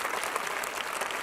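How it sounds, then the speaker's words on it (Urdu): Warm audience applause welcoming a speaker at an education event, a thick, continuous roar of clapping from a crowd throughout. "حماد خان صافی صاحب کا تالیوں سے ایک دفعہ پرتپاک استقبال کیجیے گا"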